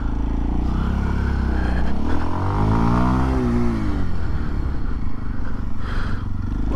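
A Kawasaki KLX230SM motorcycle with a fuel-injected engine fires up, a loud close rumbling idle with a brief rising rev in the middle before settling back to a steady putter.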